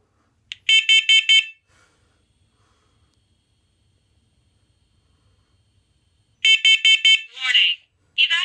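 A smoke alarm under its monthly test gives loud, repeated triple electronic beeps, then falls quiet for several seconds before the same beep pattern returns, followed by a brief recorded voice announcement.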